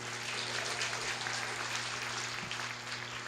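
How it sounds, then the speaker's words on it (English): Audience applause at a police-community relations awards ceremony, a dense, steady wash of clapping throughout with a low hum beneath. "give him one more round of applause now"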